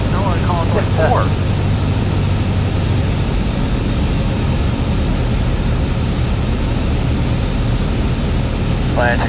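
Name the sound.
Cessna Skyhawk engine in flight at night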